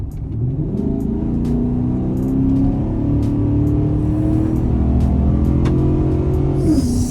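A car fitted with a Corsa closed-box air intake accelerates hard from 35 to 70 mph, engine pitch climbing steadily through one long pull before easing off at the end, loud and close.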